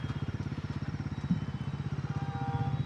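Bajaj Pulsar NS350z motorcycle in road mode, its engine chugging with a steady, rapid pulsing beat close up as it rides along, with no one talking over it.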